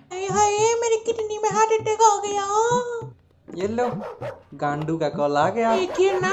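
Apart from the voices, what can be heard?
dog barking on phone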